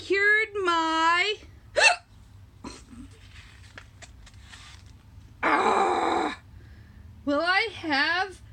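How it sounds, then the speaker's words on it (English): Several sharp, sudden hiccups break up a person's expressive reading of a children's story about a penguin, some hiccups standing alone between stretches of voice. "Will I have the hiccups forever?"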